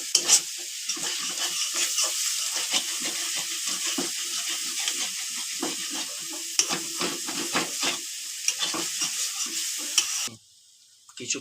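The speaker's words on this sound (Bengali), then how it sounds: "ফ্রাই করে নেওয়ার পর এর মধ্যে আমরা সেদ্ধ করা মোচাটি দিয়ে দেব। দিয়ে এর মধ্যে ফ্রাই করে নেব।" Boiled banana flower frying in a pan, with a loud, continuous hiss and sizzle broken by repeated scraping stirs. It is close, with no talk, and cuts off near the end.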